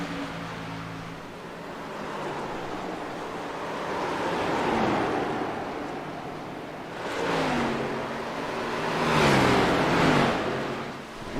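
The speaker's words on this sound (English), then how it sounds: "Car shifting, I can hear it. I heard the different revs." NASCAR race cars at Phoenix roar past, their engines rising and falling in pitch as they swell in and out under a steady wash of broad trackside and wind noise.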